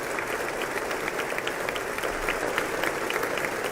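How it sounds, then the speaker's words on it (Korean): Sustained, dense applause from a large chamber audience greeting the introduction of the President of Korea at a joint session of the US Congress, a continuous roar of clapping with scattered louder claps. "아무 얘기도 안 했는데 그냥 소개만 했는데도 박수가 끊이질 않습니다"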